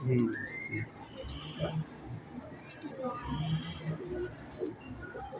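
Pigeons, including a slate-grey bird in a loft, coo in soft repeated low phrases nearby while someone talks over them.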